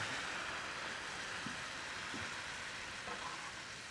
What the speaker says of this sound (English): And we're going to cook that tequila off.